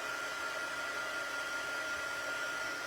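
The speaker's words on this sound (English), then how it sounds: "So I'm just gonna take my heating tool." A steady, loud blowing roar of a heat embossing tool heating up, running continuously, a broad even whoosh with no pauses and no voices.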